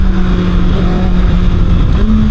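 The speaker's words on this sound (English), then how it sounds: "Now the quick shifter is a blip shifter on the way down, so it is not a full quick shifter, but we will try that right now" A 2027 Kawasaki ZX-6R sport bike engine idles loudly, with a brief rise in pitch near the end from a throttle blip during a downshift with the blip shifter. No voices are heard.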